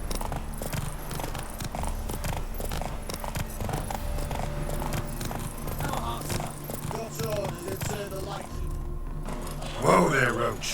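In The Witcher 3, the horse Roach trots along with steady, close clip-clop hoofbeats, a brief whinny near the end, and game music and voices beneath.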